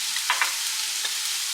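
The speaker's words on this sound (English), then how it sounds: "we are going to cook this down, cook the onions down in the remainder of this" Garlic and onions frying in a pot, a bright steady sizzle with a few soft stirring clicks and scrapes, close and alone without talk.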